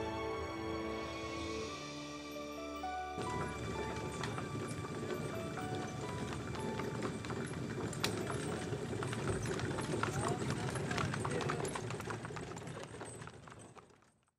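Horses pulling carriages at a carriage driving event at the Kentucky Horse Park, steady rhythmic hoof clip-clop under background music and faint rolling noise, continuous throughout.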